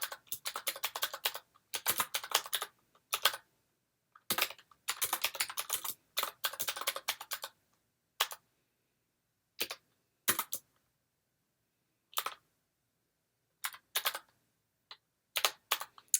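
Fingers tap on a computer keyboard in close, crisp clusters of quick keystrokes, broken by pauses and then a few isolated clicks, with no talking.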